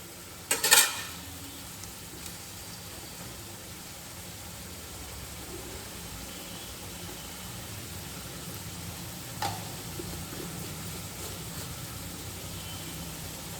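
Potatoes frying in plenty of oil in a pan, a continuous soft sizzling hiss close by, with a sharp utensil clatter at the start and a lighter clink midway, no talking.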